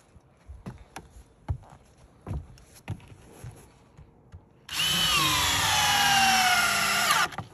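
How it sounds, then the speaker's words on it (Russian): A few scattered knocks and taps on wooden roof battens give way to a loud, close power drill whirring steadily for a few seconds as it drives a spacer screw into a batten. "Все, мы закрутили в каждую доску по одному дистанционному саморезу."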